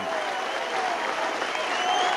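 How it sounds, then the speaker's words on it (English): A rugby league crowd at Oldham versus Warrington applauds captain Mick Morgan as he leaves the field, a steady, distant wash of clapping filling the whole moment. "Mick Morgan getting a great ovation from this crowd"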